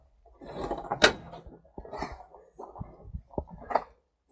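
A TYM 3515 tractor cab door is unlatched and swung open with a series of clicks, knocks and mechanical clunks, close and fairly quiet, and nobody speaks.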